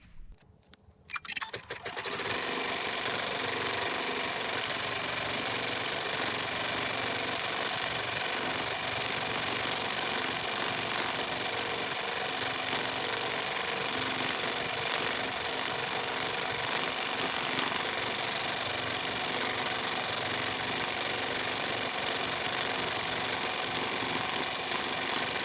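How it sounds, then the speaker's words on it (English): An embroidery machine stitching a windmill design with gold thread in the bobbin runs in a loud, steady, rapid mechanical chatter that starts after a brief moment and continues unbroken, close up, with no talking. "So now I'm ready to sew my design."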